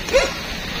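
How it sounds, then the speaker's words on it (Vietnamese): A dog gives one short, distant yip or bark, brief and fairly faint against a quiet outdoor background, with no talk. "Chó sủa thôi chứ."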